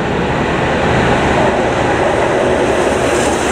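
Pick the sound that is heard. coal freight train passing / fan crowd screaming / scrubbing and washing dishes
coal freight train passing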